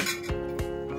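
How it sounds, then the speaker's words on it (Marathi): A lid lands on a pan of okra masala cooking over low heat, giving a few light metallic clinks and taps close by against a steady background hum. "बारीक करायचा गॅस आणि ठेवून द्यायचं झाकण."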